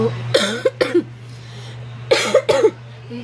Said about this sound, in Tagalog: Yung ubo ko talagang hindi pa siya okay